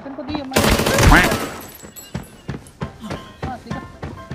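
A sustained burst of rapid automatic gunfire in the video game Arena Breakout, followed by several sharp single shots spaced out, with a voice talking over parts of it.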